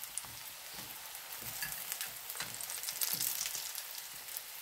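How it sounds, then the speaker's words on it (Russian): Zucchini slices frying in a pan give a steady, close sizzle and crackle that fills the whole stretch, with no talking. "Ну и так буду жарить все кабачки."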